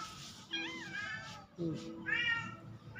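A cat meows several times at close range, drawn-out rising and falling cries spread across a few seconds, with a woman calling nearby.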